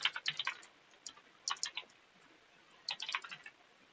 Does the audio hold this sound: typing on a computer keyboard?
yes